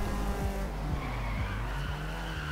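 Honda Civic in Forza Horizon 2 racing game, engine revving under squealing, skidding tires, with quick repeated gear shifts, loud and close.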